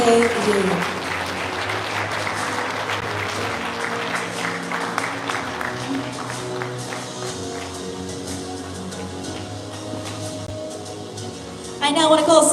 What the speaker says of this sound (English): let's give another round of applause for Sergeant Duk K.